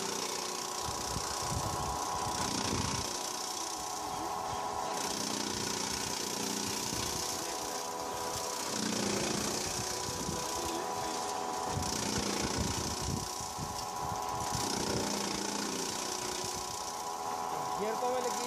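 An engine-driven grass and straw chopper runs steadily, a continuous mechanical drone and rattle with rhythmic surges while people talk nearby over it.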